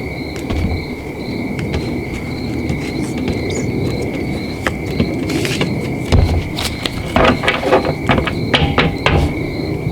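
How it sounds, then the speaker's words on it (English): Crickets chirp steadily in a dense, continuous high trill, with scattered clicks and knocks sounding nearby throughout. "The crickets are so loud."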